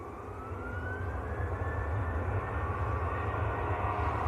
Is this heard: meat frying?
no